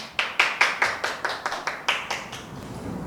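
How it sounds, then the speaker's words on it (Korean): Applause at an organic farming expo session as a speaker is welcomed: about ten distinct, fairly close claps in a slow, even rhythm, then the clapping fades into quiet room tone. "박수 부탁드릴게요"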